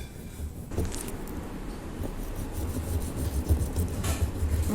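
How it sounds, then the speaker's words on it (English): Almonds being rubbed by hand into a thick paste, a soft continuous scraping and rubbing close by, steady and fairly quiet with a few brighter scuffs. "rub these almonds until it becomes a thick paste"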